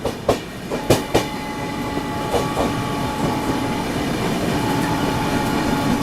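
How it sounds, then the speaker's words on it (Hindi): A special train rumbles past a railway crossing, opening with a few sharp wheel clacks before settling into a steady, loud rolling roar of carriages. "ओहो क्रॉसिंग है, ये भी कोई स्पेशल ट्रेन लग रही है।"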